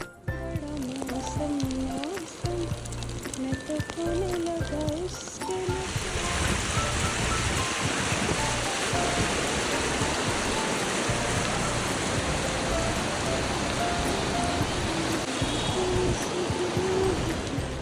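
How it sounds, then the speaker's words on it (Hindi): Rain pours steadily near the Janki Setu suspension bridge in Rishikesh during the monsoon, a dense continuous hiss that swells noticeably louder after the first few seconds and holds without pause. "दिखता है कि वर्षा हो रही है"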